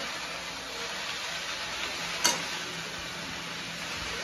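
Onion, chilies and garlic frying in a pan, a soft steady hiss of sizzling with one brief sharp tick of a utensil partway through, quiet and without talk.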